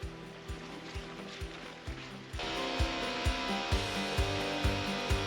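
Winch ratcheting steadily as it pulls a turbo Polaris snowmobile out of a beaver dam, with regular loud clicks. Partway through, an engine revs hard to full throttle and a dense roar joins the ratcheting.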